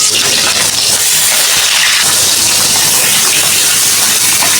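Rohu fish heads dropped into hot oil, giving a loud, steady broadband sizzle and hiss that holds constant throughout, close to the pan, with no talk.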